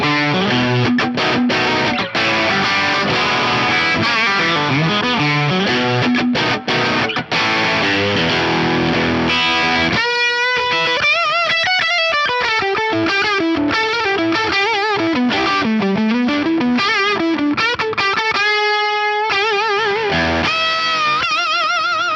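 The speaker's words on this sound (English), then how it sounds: "Let's just hear the tube screamer style side." An electric guitar plays through the Electric Dragon pedal's Tube Screamer-style overdrive side, first as dense driven chords, then as clear sustained melodic lead lines and bends, loud and upfront without talk.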